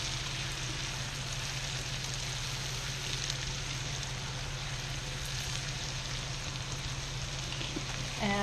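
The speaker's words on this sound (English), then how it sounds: "we're going to let that simmer till it gets cooked down, so the onions are translucent" Onions simmering in a pan give a steady, even sizzle that carries on without a break for the whole stretch, close and fairly loud, with no talking.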